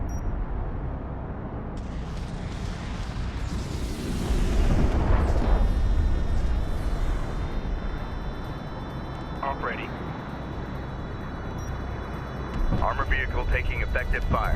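Artillery shelling booms in the real-time strategy game Homeworld: Deserts of Kharak, with heavy rumbling blasts and crackling impacts near and far, plus a steady aircraft-like drone and a few sharp pops.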